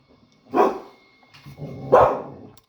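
Dogs barking, two loud separate barks about a second and a half apart, fairly close, with no talking.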